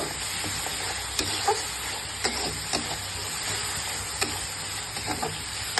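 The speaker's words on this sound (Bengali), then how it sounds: "মশলাটা এভাবে ভালোভাবে কষিয়ে" Spice paste for mustard hilsa sizzles steadily in a pan while being sautéed, a constant close hiss broken by soft, irregular clicks from stirring.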